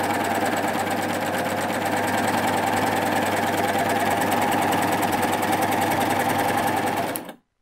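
A Baby Lock Euphoria coverstitch machine sewing through tulle, running at steady high speed with a fast even needle rattle and motor hum for about seven seconds before stopping abruptly.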